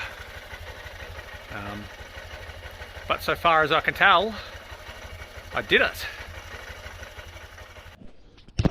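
A 2023 Honda CB125F motorcycle engine idles steadily with an even, rapid low putter throughout while someone talks briefly over it.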